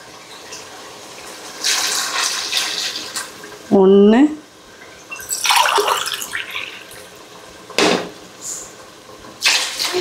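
Water is poured from a tumbler onto soaked rice in several short splashing bursts, loud and close. A person speaks between and over the pours.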